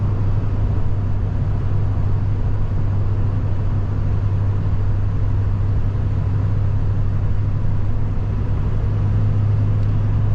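A Ford F-350 diesel pickup carrying scaffolding drives along, its engine and road noise forming a steady, loud, low rumble heard close from inside the cab, unbroken and without talk.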